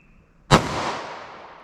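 A single 9mm pistol shot fired through a short 3.2-inch barrel: one sharp, loud crack that bursts out of near silence, followed by a long reverberant tail that slowly fades.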